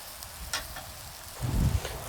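Bread toasts in a pan outdoors in the bush alongside a cheese-topped burger, giving a soft sizzle with light crackles and a brief louder burst of frying near the end.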